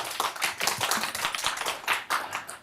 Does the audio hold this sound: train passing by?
no